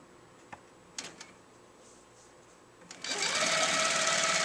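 A longarm quilting machine tying off stitches on a quilt: a few isolated clicks and taps first, then the machine starts up into a loud, steady, rapid stitching whir that runs to the end.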